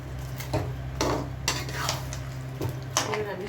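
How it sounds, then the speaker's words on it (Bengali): Spicy homemade chicken wings being stirred in a pan: several metallic clinks and scrapes of a utensil against the pan, spaced out over a low frying background. "দিয়ে ভালো করে নাড়িয়ে নিই।"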